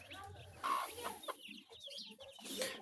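A hen with her chicks, the second hen's brood, on a farm, clucking softly near and far in short irregular calls amid faint peeping and rustling, with no talking.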